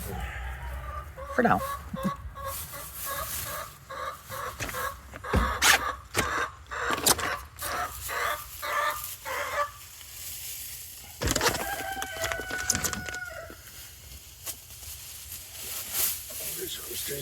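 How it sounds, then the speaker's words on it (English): A rooster kept near a rabbit cage outdoors crows and clucks repeatedly in the background while a person talks, with short bursts scattered across the scene. "Rooster's having his fit."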